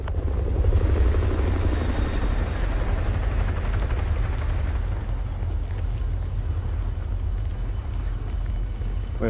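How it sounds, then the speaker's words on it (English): A helicopter in Call of Duty Modern Warfare 2 Remastered flies overhead, its heavy rotor thump loud and throbbing, then fading slightly as it passes, with no voices. "Helo patrolling the perimeter."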